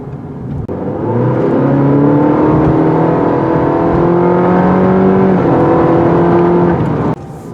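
A 2020 Cadillac CT4's 2.7-litre turbo engine drones at high revs with a steady, whining turbo wheeze layered over the roar, holding for several seconds before cutting off.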